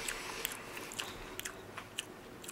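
Crunchy crickets and larvae are chewed up close, with quiet crisp bites and crackles recurring at an irregular pace against a soft background and no talking.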